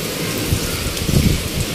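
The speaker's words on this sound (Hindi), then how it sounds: "बहुत ज्यादा पैन दी है बारिश" Heavy rain pours down steadily outdoors on a festive Eid day, a dense, loud, unbroken hiss with rumbling low noise and no voices.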